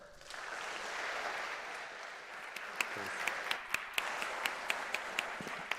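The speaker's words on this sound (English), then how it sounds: "A big applause for her." Audience applause at a university welcome event in Madrid swells and holds steadily, with sharper individual claps standing out as it continues.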